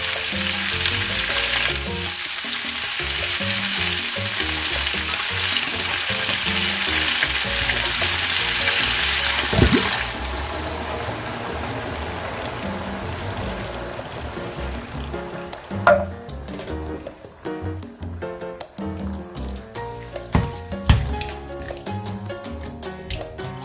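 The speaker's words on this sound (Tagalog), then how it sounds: "ilalagay ko na yung coconut milk" Coconut milk hits a hot pan of sizzling pork steak, setting off a loud, steady frying hiss. The hiss then softens into bubbling crackle with occasional stirring clicks.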